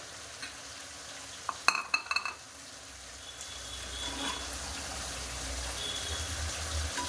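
Meat curry with tomato and salt stirred in a pan, a few sharp clinks of a utensil against the pan early on, then a low continuous sizzle that builds and carries on, close and moderately loud, no voices.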